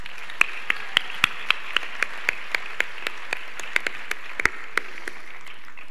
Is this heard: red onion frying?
no